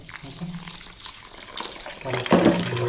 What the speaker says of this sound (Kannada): ಸೊ ಈಗ ಸ್ವಲ್ಪ ರೈಸ್ ತೊಗೊಂಡ್ಬಿಟ್ಟು ರೈಸ್ ತೊಳಿಬೇಕು.